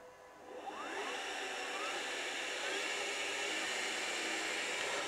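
An electric motor in a vehicle conversion whirs up under a gentle squeeze of throttle, its whine rising in pitch over the first second, then holding a steady hiss-like hum.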